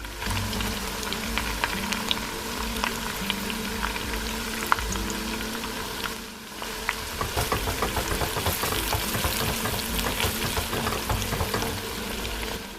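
Sliced onion, crayfish and ogiri okpei sizzle steadily in hot oil for a Nigerian ayamase stew, a continuous close crackle with occasional stirring clinks and no talking.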